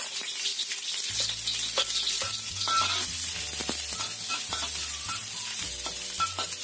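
Shallots sizzle steadily in hot oil in a pan, with a continuous close frying hiss and intermittent clinks and scrapes of a utensil stirring them.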